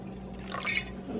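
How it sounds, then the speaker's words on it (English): Sake is poured into a braising liquid of soy sauce and water for Korean LA galbi short ribs, a short soft trickle and splash of liquid heard close over a faint background hum. "I'm going to add a little bit of sake."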